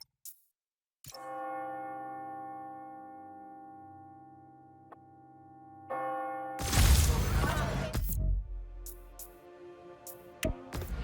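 Hourly bells from the game Spider-Man: Miles Morales ring out in a long, resonant peal of sustained metallic tones, followed by a burst of clanging and several fainter chimes that linger and decay.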